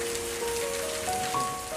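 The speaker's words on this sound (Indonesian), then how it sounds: "aku sangat senang sekali ketika hujan turun" Steady rain falling in Indonesia in late April, a continuous even wash of patter with no voices, a few faint tonal hums drifting underneath.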